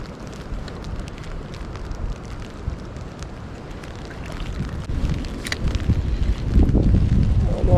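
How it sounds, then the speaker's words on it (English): Strong wind blows during a below-freezing snowstorm on a steelhead fishing trip, a loud, continuous rushing roar buffeting the microphone that swells louder toward the end. "Oh man, the wind's really going."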